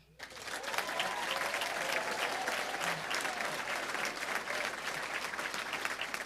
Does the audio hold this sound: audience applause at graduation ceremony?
yes